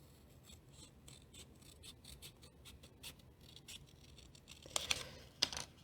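Scissors trim the edge of a paper page for a shabby chic mini envelope junk journal, heard as very quiet, soft scratchy snips and rustles with a couple of sharper cuts near the end.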